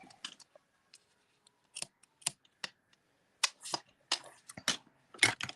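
Sharp, crisp snips of ribbon scissors trimming, several quick closes in irregular bursts, close up against a quiet background.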